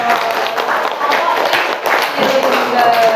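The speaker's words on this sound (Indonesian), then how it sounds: "Beri tepuk tangan untuk Mas Bara" A classroom claps for a student named Bara after he answers a science question about metal objects, a dense burst of children's applause with voices mixed in.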